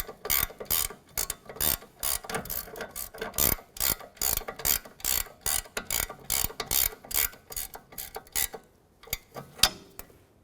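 A hand ratchet snugs a 21 mm nut on the front CV axle of a 2008-2012 Jeep Liberty: rapid clicking bursts repeat in an even rhythm, close and crisp, with brief pauses between strokes and no voice.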